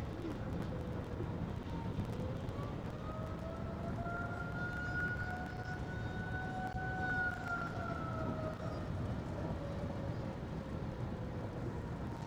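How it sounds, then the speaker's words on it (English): A distant tornado warning siren wails in a long, slow rising and falling tone over steady background noise, faint but clear. "The eerie sound of tornado sirens has been all too common today"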